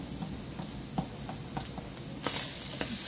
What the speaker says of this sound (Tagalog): Nilagay na natin ang ating bawang. Lagyan natin bawang. Igisa lang din natin ng mga mga 2 minutes